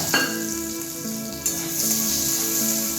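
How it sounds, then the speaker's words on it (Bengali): Chopped garlic and a small onion fry in hot oil in a pan, a close, steady sizzle with crackling pops throughout, no talk. "পেঁয়াজ আর রসুনটাকে ভালো করে ভেজে নেব"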